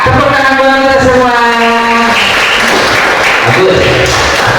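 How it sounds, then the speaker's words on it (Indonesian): Applause from a group, a steady wash of clapping throughout, with a voice briefly audible at the start and a short tone near the end. "Tepuk tangan buat kita semua"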